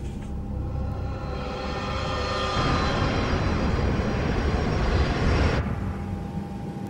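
An airliner on the evening's last flight between Berlin and Zurich makes a loud, steady jet roar with a thin whine on top. The roar swells fuller partway through and then eases slightly, with no voices.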